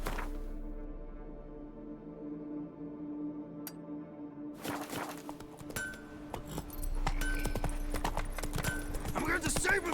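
A horse in The Witcher 3: Wild Hunt breaks into hoofbeats after a quiet stretch, quick clopping with faint jingling of tack, growing louder toward the end over a low game ambience.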